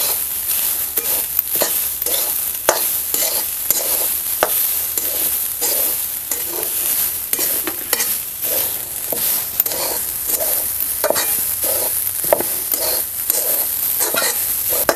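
Grated coconut and poppy seeds are dry-roasted in a pan and stirred in quick, rhythmic scraping strokes with a faint sizzle between them. The sound is close and continuous, with no voices.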